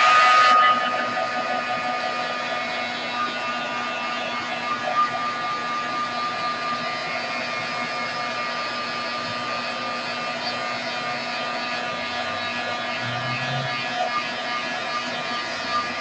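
A dryer blows on a freshly painted mixed media art layer, making a steady, loud whirring drone that holds unchanged for the full stretch, with a brief louder burst at the start and no voices.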